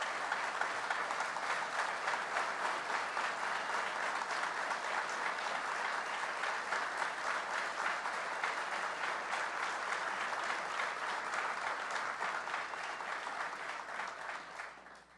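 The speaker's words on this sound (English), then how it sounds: "Let's give them a round of applause." Audience applause for utility crews honored after the 2022 Buffalo blizzard, a dense, steady clapping that fills the room for about fifteen seconds before tapering off at the end.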